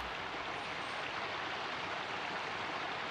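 Steady, close rush of flowing water from a stream in a summer-vacation fishing video game, a dense unbroken wash running the whole time with no voices.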